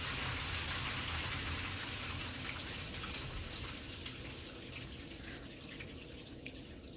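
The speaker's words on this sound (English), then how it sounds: "Water pipes again." Water rushing through household pipes makes a steady, full hiss that holds for about seven seconds and fades very slightly, with no talking.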